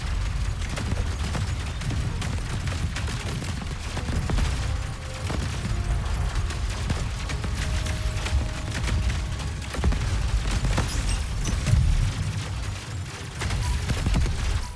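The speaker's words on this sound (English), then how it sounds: "Maybe we should make some use of the missiles." Dense, continuous barrage of explosions and rapid weapon fire from the space shooter game Cygni: All Guns Blazing, loud and unbroken for about fifteen seconds with booming low rumble underneath.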